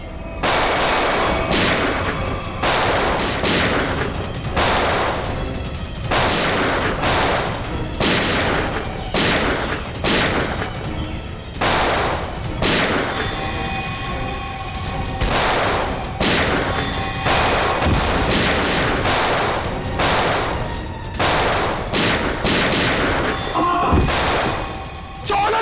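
Gunfire in a Hindi TV crime drama about a police investigation team: rapid, loud volleys of shots fire continuously as dense, overlapping bursts, with little pause between them.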